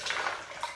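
Brief, faint splash of water being poured into a blender jar, a soft bright trickle lasting under a second.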